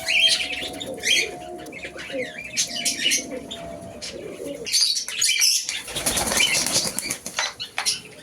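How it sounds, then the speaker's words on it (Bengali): Pet pigeons and doves leaving their cages to bathe, with repeated bursts of flapping wings close by, mixed with chirps and soft cooing and some background rustle. "দেখুন সব উড়ে উড়ে চলে আসছে, যে যার কেজ থেকে বেরিয়ে আসছে।"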